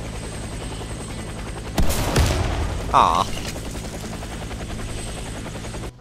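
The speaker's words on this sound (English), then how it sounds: "I was hoping I could destroy the helicopter." A helicopter in the shooter video game Warface, a steady rotor drone throughout, broken by a sudden burst of loud gunfire and a brief impact, with a short spoken exclamation.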